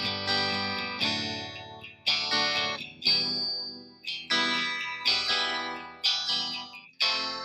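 Clean electric guitar chords strummed through an amplifier in a blues rhythm, roughly one ringing strum per second, each decaying before the next, bright and close with no distortion.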